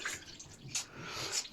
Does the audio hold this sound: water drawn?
yes